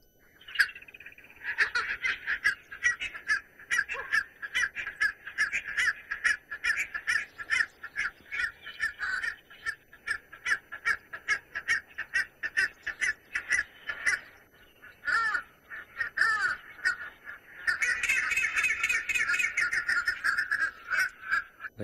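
A bird at a sunset safari gives a long run of harsh, rapid, chattering calls that sound almost like a chimpanzee, loud and close, repeating in rhythmic bursts with brief pauses.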